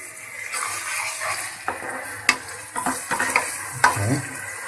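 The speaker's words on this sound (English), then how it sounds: "just give it a quick stir so that the salt and the spices" Tuna seasoned with salt, black pepper and spices gets a quick stir in a sizzling pan, with scraping and clinking of a utensil against the pan repeating over a steady frying hiss.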